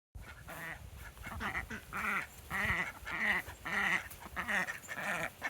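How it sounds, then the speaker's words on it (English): Ducks on a pond beside a farmhouse barn give a steady run of loud, overlapping quacks and honking calls, about a dozen rhythmic bursts in quick succession, close by with no talking. "Ducks live right up here in this pond"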